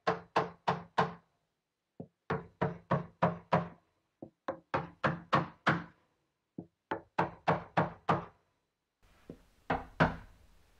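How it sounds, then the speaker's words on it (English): A hammer knocks on a wooden block held against LED lights to seat them in a sauna ceiling during installation, with groups of four or five sharp, close hollow knocks separated by pauses and a few lighter taps. "I'm gonna knock on those LED lights, I'm just going to use a piece of wood"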